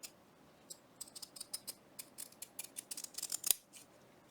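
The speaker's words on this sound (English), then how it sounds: "Probably just cutting it skinnier and skinnier" Scissors snip through Amazon packaging material being cut into narrower strips for a fabric calendar journal cover, a string of quiet, crisp clicks in irregular bursts with one sharper snap near the end, close by and with no talking.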